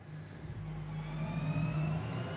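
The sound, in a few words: Porsche GT3X onboard engine sound in Rennsport video game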